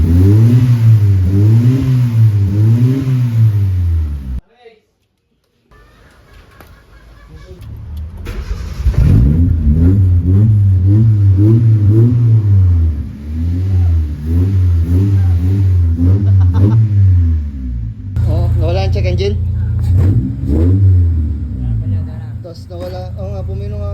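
A Honda Civic engine revs loudly in repeated rising and falling pulls with a rough, uneven misfire, cutting out briefly before restarting and revving again, while people talk nearby.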